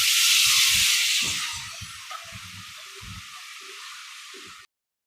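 Banana flower dropped into a hot pan of onion and chili, a strong bright sizzle that slowly settles into steady frying hiss, with soft scraping stirs underneath until it cuts off.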